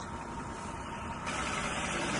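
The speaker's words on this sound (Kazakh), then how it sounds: "мотордың жұмыс істеу қалпы өте жақсы, артықсыз" A 2014 Toyota Sienna with a 3.5-litre petrol engine idles under the hood, a low, even, continuous hum that stays steady throughout with no revving.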